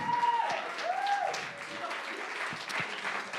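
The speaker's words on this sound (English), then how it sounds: "can we have a big round of applause for our sound engineer tonight" A live crowd at The Bedford applauds steadily for the sound engineer; dense, sustained clapping fills the room, with a few whistles and voices rising above it.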